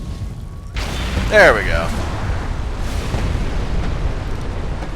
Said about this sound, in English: Laser-guided airstrike incoming on your target.